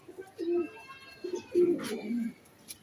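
Pigeons on a farm coo in a few soft, low, throaty phrases close by, with short pauses between them and a faint chirp or two in the background.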